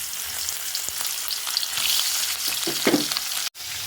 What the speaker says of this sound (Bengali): এইভাবে আমি মাখিয়ে নিয়ে এই যে মাছগুলো ভাজবো।